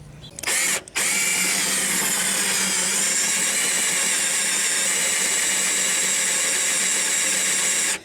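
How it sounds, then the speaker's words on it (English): A power drill whines loudly and steadily after a brief start, running continuously with a high-pitched motor tone. "So I'm going to drill these out"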